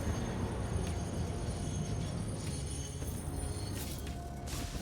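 A train in the Satisfactory video game rolls along with a steady low rumble and a constant rolling rattle, which stays even and fairly loud throughout.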